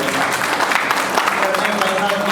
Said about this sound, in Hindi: तालियों में थोड़ी कंजूसी ना करें।